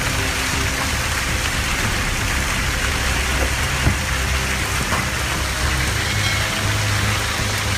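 Golf-ball-sized hail pelts cars during a Texas storm, a dense, loud, continuous roar of impacts without pause or voices.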